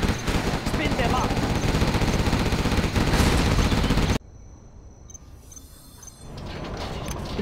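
Gatling units in Command and Conquer Generals fire continuous rapid bursts, loud and dense for several seconds. The fire then cuts out to quieter battle ambience before picking up again faintly.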